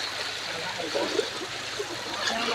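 River water rushing along with a strong current, a steady broadband wash of flowing water filling the scene close by, with a few faint voices mixed in.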